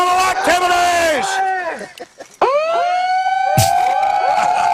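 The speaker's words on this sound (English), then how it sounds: "I love the multi-sirens." Several police and emergency sirens wail at once, overlapping rising and falling tones, loud and close, with a short dip before they surge back together.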